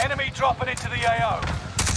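Gunfire sounds in a Call of Duty match on the Rebirth map, sharp repeated shots and bursts crackling close by while a radio-style voice talks over the action.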